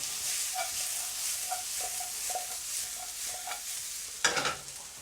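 Yellow peppers and spring onions stirred and frying in an oiled pan, a steady close sizzle broken by repeated scraping stir strokes and a louder clatter near the end.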